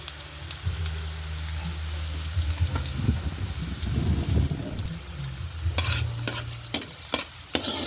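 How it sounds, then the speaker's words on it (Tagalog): Garlic and onions sauté in a pan for a goat head and feet tamarind stew. A close, steady frying sizzle runs under repeated stirring scrapes, and several sharp knocks of the utensil against the pan come toward the end. "Luluin lang po natin at hintayin po natin mag golden brown yung ating pong bawang at sibuyas."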